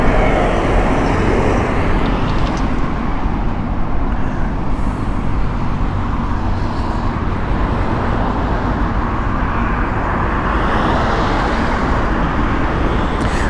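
An Aegean Airbus A320neo taxiing at Heathrow Airport, a loud, steady jet engine rumble and hiss that carries on unbroken for over thirteen seconds, with no voices over it.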